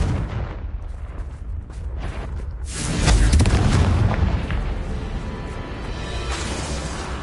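Confringo blasting spell going off in the video game Hogwarts Legacy, a loud booming explosion that swells around the middle of the clip and leaves a long rumbling roar behind it, with no one talking.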